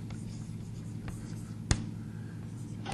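Handwriting during a ray tracing lecture, a soft continuous scratching of pen on a surface against low room hum, with a couple of sharp taps standing out.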